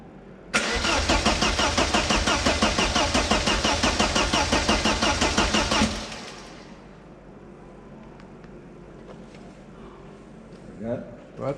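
The starter of a Vauxhall Astra GTE 16V being restored and rebuilt cranks loudly in a fast, regular pulsing rhythm for about five seconds, then cuts off into a quiet garage with faint movement.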